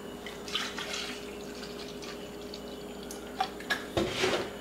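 Whole milk poured into a 16-ounce container, heard as faint, soft liquid splashes and drips that grow more noticeable near the end over a quiet background.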